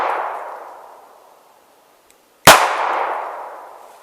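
A Smith and Wesson 637-2 Airweight revolver fires one sharp, loud double-action shot outdoors, its report ringing and echoing away after the decaying tail of an earlier shot.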